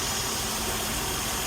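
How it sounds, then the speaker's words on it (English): A car engine with a MAF or MAP sensor unplugged runs with a steady, uneven low rumble and faint chugging vibration, fairly loud and continuous throughout. "now the engine is gonna kind of make a chugging sound"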